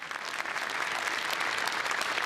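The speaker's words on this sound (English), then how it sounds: "So you can clap your hands after I say the partner." At a startup awards ceremony, an audience claps for sponsoring partners, producing a dense, sustained applause that swells slightly and holds steady to the end.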